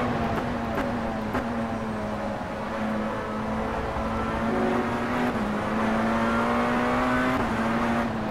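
A Tatuus FT-50 single-seater race car in rFactor 2 at Highlands Motorsport Park, its engine droning loudly and continuously through gear changes and throttle shifts, with brief tire squeal and no talking.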